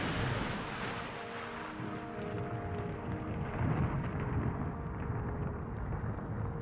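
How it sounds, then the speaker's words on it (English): Deep rolling thunder from a lightning strike on a rocket launch pad in a Florida storm, a broad sustained rumble that swells and fades, fairly loud and unbroken. "lightning strikes the launch pad."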